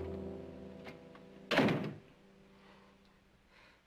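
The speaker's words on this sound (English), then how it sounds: "Close the door." A single heavy thunk of a door shutting in an old western drama, one loud short impact with a brief rumble, against a quiet background hum.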